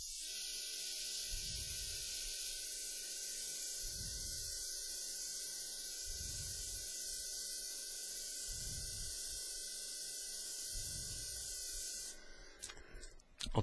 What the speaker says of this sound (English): I'm going to pull away a little bit with my airbrush